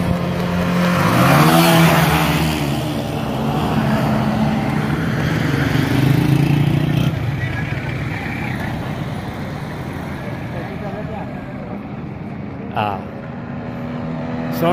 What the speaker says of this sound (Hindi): बड़े मोटरसाइकिल वाले लंघ गए